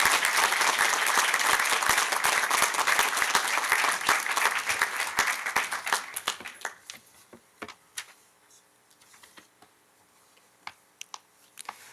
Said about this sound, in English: Please give a round of applause for all of our graduates